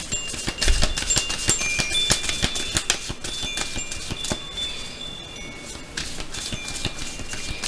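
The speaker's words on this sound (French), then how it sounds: "le carillon s'en donne à carillon joie" Wind chimes ringing in gusty wind: rapid clustered metallic tinkles and bright tones that keep overlapping, close by and fairly loud.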